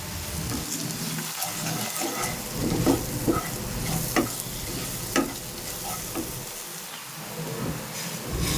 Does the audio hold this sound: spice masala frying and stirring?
yes